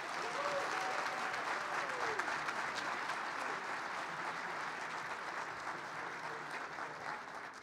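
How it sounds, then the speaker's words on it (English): A luncheon audience honoring girls and women athletes claps in a dense, steady wash of applause that holds for several seconds and tapers slightly near the end. "Now we may applaud."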